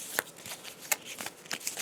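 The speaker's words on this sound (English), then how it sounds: "Let's get out her deck and see what she gets. Shuffle this up for the first time." Deck of cards shuffled for the board game Gloomhaven, several quick riffling and tapping snaps close by, with no talk.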